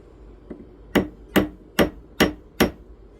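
Five crisp hammer taps straightening a ring shank on a jeweler's mandrel, evenly spaced and close, preceded by one faint lighter tick.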